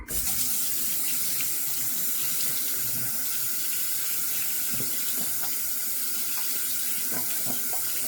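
A tap runs steadily into a sink, rinsing lather off a shaving soap tub, with a constant close splashing hiss and a few brief clunks of the tub being handled.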